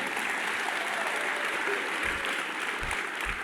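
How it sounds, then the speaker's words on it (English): Steady applause from a crowd at a hall of fame induction speech, clapping continuously and evenly for a few seconds with no talking over it. "I think that's worthy of a round of applause."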